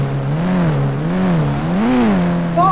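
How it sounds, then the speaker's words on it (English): A steady, loud video game car engine drone, from a Toyota Fortuner in GTA 5, rises and falls in pitch as it revs and eases off, smooth and continuous without talking. "Great looking car, awesome sound."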